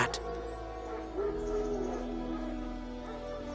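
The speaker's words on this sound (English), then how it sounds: "Wild dogs. Yes. More dangerous than wolves." In the Witcher 3 video game, wild dogs give short yips and whimpering growls against a low ambient rumble, fairly close and with no talking.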